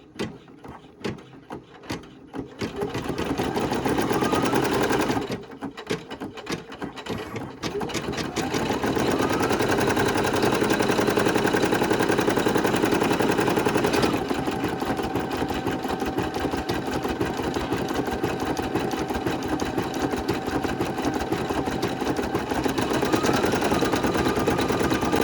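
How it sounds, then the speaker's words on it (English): A Brother PE800 embroidery machine stitches an applique onto a shirt, its steady loud mechanical whir running continuously after a brief start-up and pause, with a faint high whine above the motor hum. "let's go ahead and start on that second stitch"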